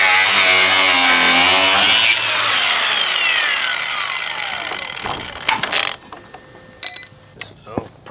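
A power tool cutting through wood gives a loud, whining, harmonic buzz for about two seconds, then winds down, followed by scattered clicks and knocks.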